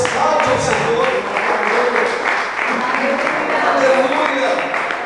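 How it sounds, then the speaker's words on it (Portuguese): Sustained applause fills the whole stretch at a church service, a dense wash of clapping from a crowd with voices mixed in. "Dê uma salva de palmas, exalte ao Senhor"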